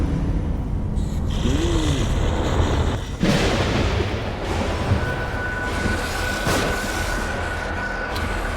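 Gunfire in a first-person shooter sounds as sharp broadband cracks with a sustained rumble between shots; a player's voice briefly cuts through.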